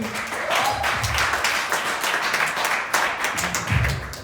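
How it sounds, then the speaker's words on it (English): A comedy club audience applauds steadily and densely as a comedian is introduced, with a few thumps and claps standing out and the crowd sounding close and full. "Put your hands together for Jasky."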